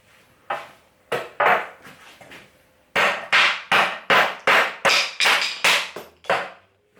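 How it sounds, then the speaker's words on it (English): Sharp hammer blows knock wooden rails out of a hollow core door, first a few scattered knocks, then a rapid, regular series of loud, close thuds. "We just might knock these ones here out with a hammer"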